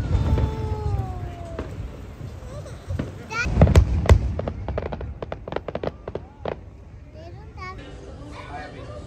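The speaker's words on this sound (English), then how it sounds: "biggest firework is gonna come" Several sharp bangs and crackles burst out in a cluster, then scattered pops follow, with people calling out and cheering over a steady background rumble.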